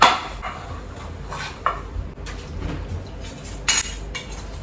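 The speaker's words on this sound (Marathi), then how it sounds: "जीविकाचा आवाज बघा भांड्याचा, खटखट खटखट" A child clatters kitchen pots and utensils, making scattered metallic clinks and knocks of varying loudness over a low background hum.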